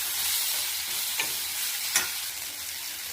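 Small onions, tomato and tamarind frying in a pan, giving a soft, even sizzle with two brief scraping stirs.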